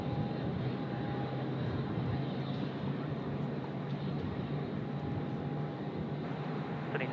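Boeing 747 BCF converted freighter jet at Sydney Airport, a steady, broad engine roar heard from a distance, constant throughout with a faint low hum beneath.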